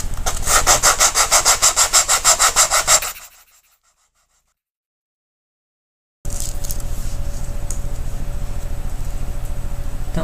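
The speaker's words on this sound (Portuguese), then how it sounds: "E agora, usando uma lixa de unha mesmo," A nail file sanding a small craft box, heard as rapid, rhythmic rasping strokes up close, then about three seconds of silence, then a steadier, fainter scraping resumes with no talking.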